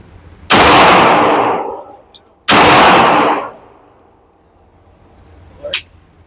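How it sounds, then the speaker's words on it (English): Two loud, close pistol shots from a Kimber 2K11 Eclipse fired at an outdoor range, each a sharp crack followed by a long decaying echo, with a faint metallic clink near the end. "These are initial shots"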